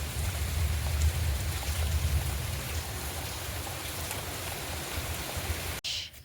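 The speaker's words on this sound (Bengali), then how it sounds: "তবে এখন আপাতত ছিটছিড়ে বৃষ্টিটা হচ্ছে" Light drizzling rain outdoors makes a steady, even patter of small drops that continues without pause until a sudden cutoff just before the end; no voices.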